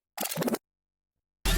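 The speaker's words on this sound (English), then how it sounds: "found a cool spin back sound" A short, gritty whirring sweep plays, followed by a gap of silence and then a sudden loud burst of dense noise.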